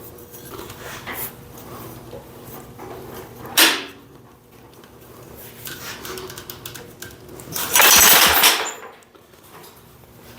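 An old abandoned Wisconsin engine is pull-started and fails to catch, giving two loud, close bursts of rapid sputtering cranking with quieter rattling and handling noise between them.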